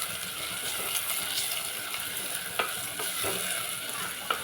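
Goat head curry with turmeric is stirred in a pan over steady frying sizzle, with a spoon scraping and a few sharp clinks against the metal, close and moderately loud, no talking.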